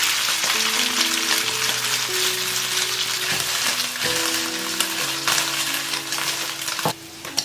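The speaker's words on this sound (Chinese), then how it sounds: "接着起锅热油，把鸡胸肉放进来煎香。" Chicken breast marinated in soy sauce, oyster sauce, sugar and starch frying in hot oil in a pan, a steady close sizzle throughout with a few faint clinks.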